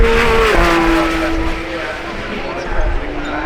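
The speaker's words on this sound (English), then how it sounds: "that's sports exhaust" A loud Ferrari F80 engine with sports exhaust drones with a steady tone that shifts pitch, low throaty exhaust rumble close by at Goodwood Festival of Speed, with a voice talking over it.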